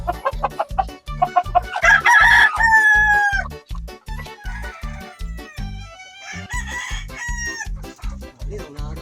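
Chickens cluck steadily and a rooster crows loudly and close at hand, its calls standing out above a constant barnyard clatter from the flock of fowl.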